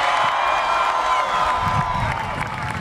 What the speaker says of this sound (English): let's make sure we give Casey a big ovation